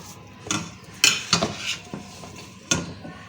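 A mashed chicken mixture is scraped and transferred into another bowl, several sharp clinks and scrapes of a utensil against the dishes in an irregular rhythm, close and clear with no talk.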